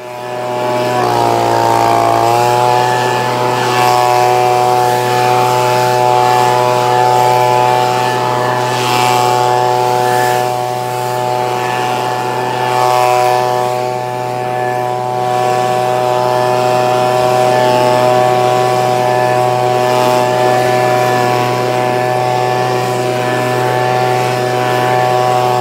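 A warmed-up Echo leaf blower engine revs briefly, then holds a loud, steady, high-pitched drone close by, running continuously with no talk.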